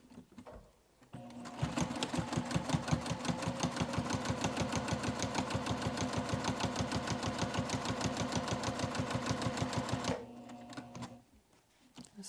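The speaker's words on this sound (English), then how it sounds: "I'm going to take this to the sewing machine" A sewing machine stitches a seam a quarter inch along a zipper on a crossbody bag, running in one fast, steady chatter of rapid needle strokes for about eight seconds, close and clear, before stopping.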